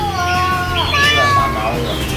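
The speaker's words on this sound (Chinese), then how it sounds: "猫啊， 姐姐你想买猫咪吗？" A cat meows up close in several drawn-out, wavering cries, loud and clear, with no talk over it.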